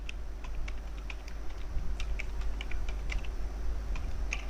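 Code is typed on a computer keyboard at close range, a rapid, uneven run of key clicks over a low steady hum, with no talk.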